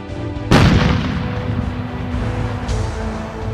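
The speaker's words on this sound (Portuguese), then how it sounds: "houve intensa troca de tiros entre a patrulha e os defensores da posição, sempre contando com o apoio das respectivas artilharias" A loud, close artillery boom breaks out suddenly during a World War II battle at Montese in April 1945. A rumbling tail follows, and a second, fainter burst of gunfire comes later.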